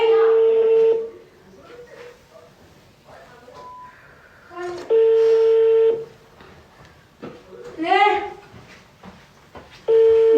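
A phone call is placed and a steady telephone tone repeats in three long beeps a few seconds apart. People talk and laugh in a room between the tones.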